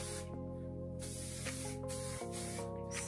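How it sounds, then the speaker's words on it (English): Continuous close hissing of an aerosol hair spray, with a few short pauses, over a steady low electrical hum. "spraying down the second section with the same two products"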